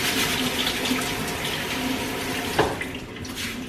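Rice being rinsed in water before going into a rice cooker, a steady running, splashing wash with a brief sharper slosh near the end, no voices.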